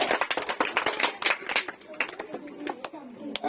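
Scattered clapping from a quiz competition audience for a correct answer, irregular sharp hand claps spread across the clip with murmuring voices underneath.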